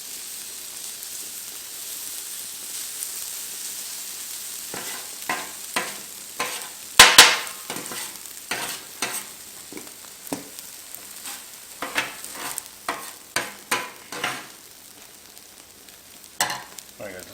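Shrimp stir fry with jasmine rice, soy and teriyaki sauce fries on a Blackstone griddle, a steady close hiss broken by a run of sharp spatula scrapes and clacks, sometimes in quick bursts.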